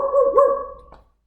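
A person mimics a dog's bark with the voice, giving one short bark-like cry that breaks into a second burst and then fades out. The sound is close and loud, with nothing else around it.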